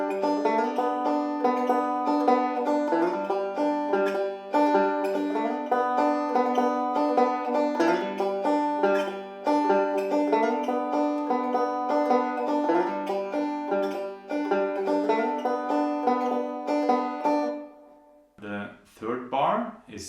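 Banjo played in a steady forward roll, the thumb and index finger moving across pairs of strings, with bright picked notes rolling evenly for most of the passage before a short voice cuts in at the end.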